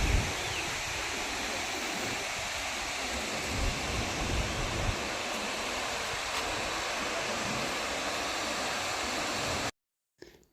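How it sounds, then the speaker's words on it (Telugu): Abbi waterfalls near Madikeri in Coorg roar as a steady, dense rush of falling water heard close and alone, cutting off abruptly just before the end. "విన్నారు కదండి, జలపాతం సౌండ్ చాలా బాగుంది కదా."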